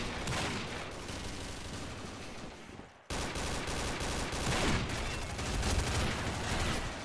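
Rapid bursts of automatic gunfire in the online shooter game Combat Arms, dense and continuous with a brief cut midway, loud and close.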